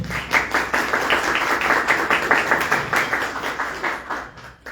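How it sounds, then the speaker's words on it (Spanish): Lively applause with clearly separate, rhythmic claps from a modest group at a university talk, fairly close, tapering off slightly at the end. "Un fuerte aplauso, por favor."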